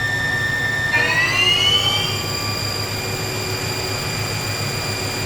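A 2009 Haas TL-1 CNC lathe spindle ramping up to 2,000 RPM, a steady high-pitched motor whine that rises in pitch and then holds level over a low mechanical hum, close and alone.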